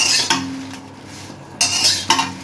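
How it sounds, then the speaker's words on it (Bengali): Dried red chillies being stirred and fried in a pan at home, metal utensil scraping and clinking against the pan in a few sharp strokes over a low background hiss, close and unaccompanied by talk. "আর এই যে অনেকগুলো শুকনো মরিচ ভাজতেছি"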